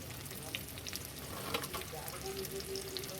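River prawn cutlets fry in hot oil with a steady, soft crackling sizzle and scattered pops, moderately close and continuous throughout.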